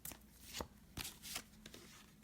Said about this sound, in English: I'm going to pull a few more cards for the week